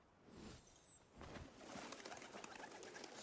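Pigeons or doves cooing in the Shadow Tactics video game, soft repeated coos and faint chirps over a quiet ambient background, fairly distant and low in level.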